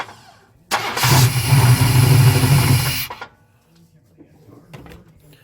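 A 1994 Chevy Z71 pickup with a 350 V8 and a 4L80E transmission, run with its torque converter disconnected, roars loudly for about two seconds and then cuts off, leaving faint clicks and knocks.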